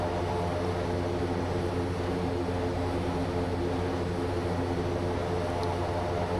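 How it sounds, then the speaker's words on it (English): Quest Kodiak turboprop aircraft in X-Plane 12 at maximum takeoff torque, giving a loud, steady engine and propeller roar that fills the whole stretch without a break or any voices. "Maximum engine torque for takeoff."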